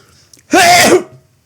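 A single close, loud sneeze bursts out sharply and lasts under half a second, with near silence before and after.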